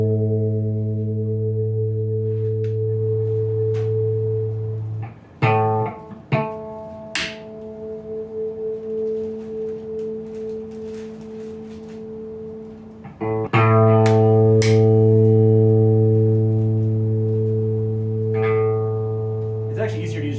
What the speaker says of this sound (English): I'll basically just get my A in tune